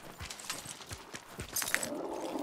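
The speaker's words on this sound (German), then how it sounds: "Ist das da vorne auch wieder so ein Pferd?" A horse in the Hunt: Showdown game, steady hoof clip-clops thudding in an uneven rhythm at moderate distance, with a brighter scrape and rising noise toward the end.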